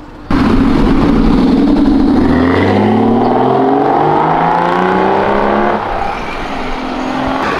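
A blue Honda S2000 sports car engine roars in close, revving up through rising gears with a strong climbing whine, then easing slightly near the end.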